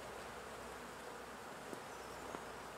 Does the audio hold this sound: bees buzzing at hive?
yes